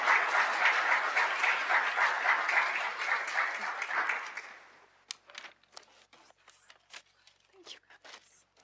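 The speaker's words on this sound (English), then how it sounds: "Dr. Christina Scott and Miss Adriana Heffley a round of applause again" Conference audience applause at the 2023 EPIC Conference, a full, steady round of clapping that dies away after about four seconds into a few scattered claps and rustles.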